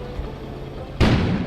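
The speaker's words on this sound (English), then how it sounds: "An explosion suddenly occurred outside." An explosion outside in the video game Kona hits as one sudden loud boom with a long rumbling tail after a quiet, murmuring room tone.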